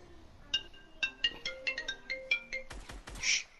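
A mobile phone ringtone for an incoming call from a school plays a bright, plinking melodic pattern of quick chime notes, fairly clear and close, with a short burst of other noise near the end.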